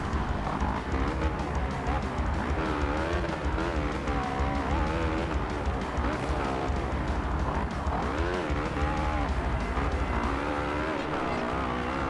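Motocross motorcycle engine in the racing game MXGP 2 revs and shifts continuously, a loud, wavering whine rising and falling through gears for the whole stretch, with no clear talk over it.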